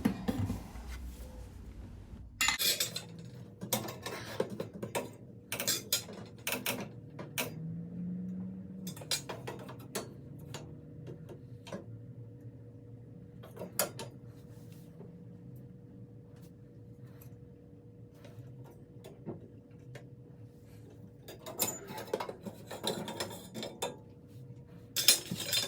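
Metal burners being lifted out of a gas boiler, giving sporadic clinks and scraping rattles of sheet metal, some sharp and close, with quieter handling noise between.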